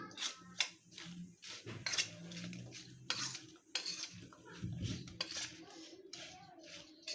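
Raw mango pieces are stirred with turmeric and salt in a metal bowl, giving soft scraping and irregular clinks of a spoon against the dish, quiet and close.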